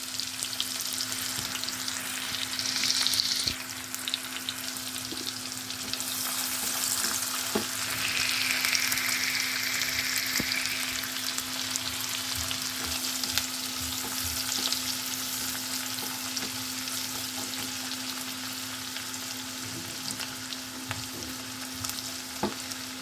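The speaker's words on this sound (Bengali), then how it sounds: "পেঁয়াজটা একটুখানি ভাজা হোক," Chopped onion sizzles steadily in a pan for a poppy-seed and soybean dish, a continuous close frying hiss with occasional soft stirring scrapes and a low steady hum underneath, no talking.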